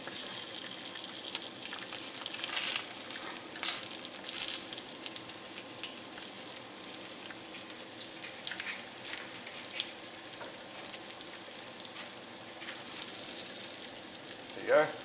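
Fish fillets frying in a pan after a fishing trip, a steady soft sizzle throughout with faint clinks and brief handling noises, no talk.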